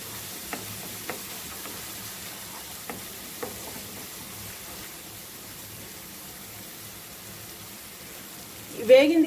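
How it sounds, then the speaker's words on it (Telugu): Gongura chicken fries in a pan with a steady, soft sizzle throughout, broken by a few light stirring clicks. A louder clatter comes near the end. "పచ్చివాసన పోయే వరకు వేపుకోవాలి"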